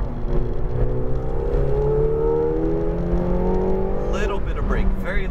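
A McLaren 720S on the Exotics Racing track in Las Vegas revs steadily under throttle, its engine note climbing smoothly and loudly from inside the car with a brief whirring shift near the end.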